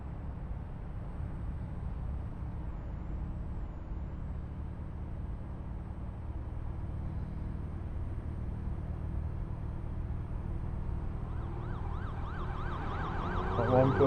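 Police car sirens in the Euro Truck Simulator 2 game, a wailing siren rising in level over a low steady truck engine drone, growing louder toward the end with no talking.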